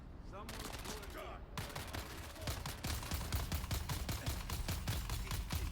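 Rapid automatic gunfire from a gun in Dune: Awakening, evenly spaced shots in a long, steady burst, fairly quiet and heard with a faint voice in the background.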